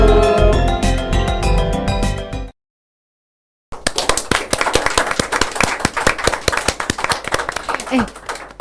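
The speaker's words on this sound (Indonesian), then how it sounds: "Kita nepuk tanganin kita sendiri loh, yang muncul kita berdua kita tepuk tangan loh" Two people clap their own hands in quick, loud, close bursts, first rapidly and then after a short silence in a longer uneven run, with voices talking alongside.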